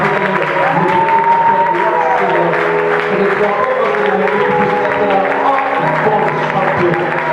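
A church congregation at a French-language service applauds together, a dense, steady clapping that fills the whole stretch, with voices and music-like tones running beneath the clapping.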